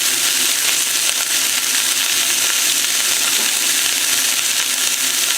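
Chunks of beef brisket searing in a hot pan alongside ginger pieces, a loud, dense, unbroken hiss of sizzling fat heard close up with no voices.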